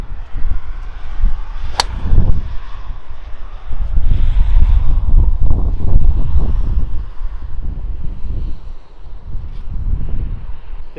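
Gusting wind buffets the microphone on the Ploemeur-Océan seaside golf course on a cold day, a steady low roar with surges and one sharp snap near the start, no talk.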